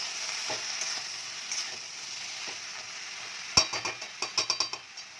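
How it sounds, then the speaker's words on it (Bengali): Bottle gourd greens stirred with frying potato and eggplant in a pan, a low continuous sizzle, then a run of quick spoon scrapes and knocks against the pan toward the end. "এবার ভালো করে নেড়ে নেবো"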